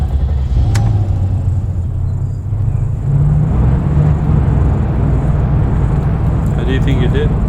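A low engine rumble runs steadily while riding inside a vehicle during a military-style selection exercise, with people talking over the drone.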